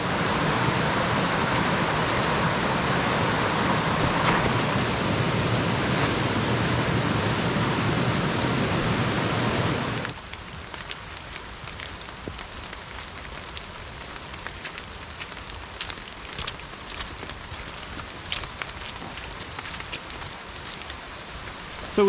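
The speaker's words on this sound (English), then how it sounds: "Of course the rain hasn't stopped, but that's okay." Heavy rain falls in the Kaimai Ranges forest, a dense, loud hiss of downpour for about ten seconds before easing to a lighter patter of scattered drops.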